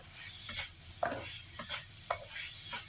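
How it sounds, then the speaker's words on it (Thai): A roasted, crushed peanut filling is stir-fried in a pan with a soft background sizzle. Several distinct scraping and stirring clicks recur roughly every half second, fairly close, and no one speaks. "จะคั่วเดี๋ยวผัดต่อไปอีกประมาณสักสองสามนาที รอมันเหนียวเข้ากันจ้ะ"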